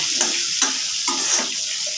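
Potato pieces fry in hot oil seasoned with salt and turmeric, giving a steady close sizzle with a few sharp stirring scrapes and taps against the pan.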